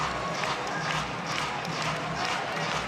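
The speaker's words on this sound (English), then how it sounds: "the Cardinal faithful on their feet, clapping the set point for the Card" Stanford home crowd at a men's college volleyball match against Loyola Chicago, standing and clapping rhythmically with cheering on set point, a steady pulsing wash of claps under an announcer's voice.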